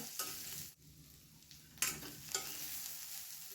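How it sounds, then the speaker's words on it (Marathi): Chopped onion sizzles softly in a pan over a low gas flame as it browns for a corn thecha, with a few sharp scrapes of stirring on top. No one speaks. "कांदा आपल्याला गुलाबी रंगावर भाजून घ्यायचा आहे चांगला बारीक गॅसवर आपण कांदा चांगला गुलाबीसर रंगावर भाजून घेऊया"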